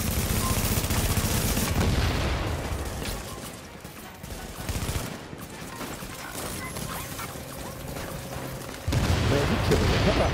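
Sniper rifle and other gunfire in The Division on PS4, a loud, dense barrage of overlapping shots and impacts that swells, eases off in the middle and then surges again near the end.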